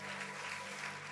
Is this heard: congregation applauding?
yes